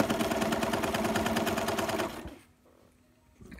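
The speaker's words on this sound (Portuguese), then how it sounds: "Eu vou costurar todas as camadas em círculo" A sewing machine stitching through stacked fabric layers runs in a fast, steady mechanical rhythm for about two seconds and then stops, leaving near silence with a faint handling sound at the end.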